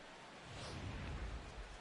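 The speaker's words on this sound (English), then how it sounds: "This may have something to do with the rain that's falling out there." Steady hiss of rain falling on a ballpark during a Pirates versus Reds game in MLB The Show 16, a faint, continuous wash of noise with no talk.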